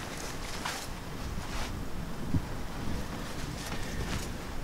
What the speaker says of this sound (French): ici, il y a un bon vent